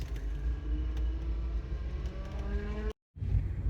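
Engine hum and road noise inside a 1979 Volvo 345 while driving, a steady rumbling drone with a faint whine, cut by a brief dropout near the end.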